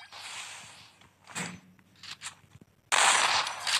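Vector submachine gun fire in the battle royale game Free Fire, short crackling bursts separated by pauses, ending in a louder sustained burst up close.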